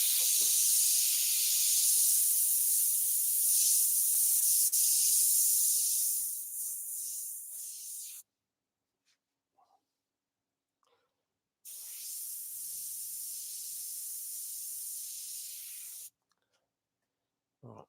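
Airbrush spraying paint during an art demonstration: a long steady hiss for about eight seconds, a pause with faint taps, then a second sustained hiss of several seconds and a short final burst.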